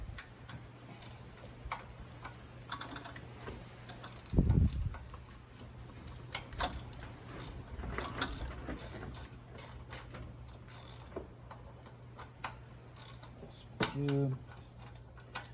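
A ratchet wrench with a 10 mm socket works loose a part near a car's thermostat housing, giving scattered bursts of close, dry ratcheting clicks with brief pauses and a few knocks between them.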